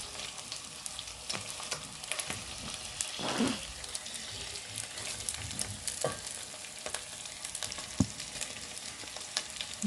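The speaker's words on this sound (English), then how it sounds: "I'm gonna add in my boiled meat and mix up the onions, the garlic, plus my boiled meat." Onions, garlic and boiled meat fry in a pan while being stirred for pilau, a faint continuous sizzle broken by scraping strokes of the spoon, with no talking.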